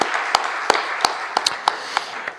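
A handful of sharp, separate hand claps at a loose, fairly regular pace during a New Year's Eve church service, close and clear, with no crowd applause building around them.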